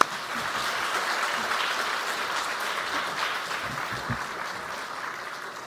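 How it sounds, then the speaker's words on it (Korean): A church congregation at an autumn Friday revival service claps steadily to welcome the pastor, a soft, even patter of many hands in a large room, with no voices over it. "우리 목사님 나오실 때 우리 박수로 환영하겠습니다."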